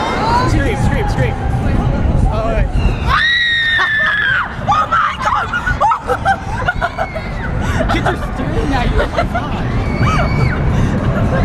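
Riders scream and shriek on an indoor thrill ride at the Adventuredome as it runs backwards, high wailing cries rising over a babble of crowd noise, laughter and talk that continues throughout.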